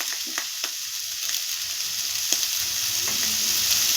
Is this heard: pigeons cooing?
no